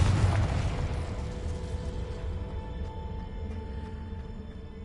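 An explosion spell blasts in Hogwarts Legacy, a loud boom whose broadband burst decays into a rumbling tail over several seconds, with faint magical tones lingering.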